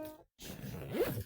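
A quick zipper pull close by on a school bag, a raspy zip sliding shut after a brief pause, fairly quiet.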